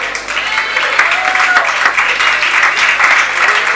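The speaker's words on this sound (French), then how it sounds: "on peut les applaudir" Indoor audience at a 1984 sports evening at the Tempo-Club in Alençon applauding gymnasts from a Dreux club, dense sustained clapping filling the whole stretch, loud and close.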